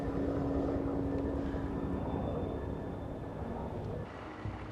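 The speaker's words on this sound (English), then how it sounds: "A helicopter! Dad! Sounds like a Huey." A Huey helicopter far off over snowy mountains, heard as a steady, low, rumbling drone that stays even and faint throughout, with no voices.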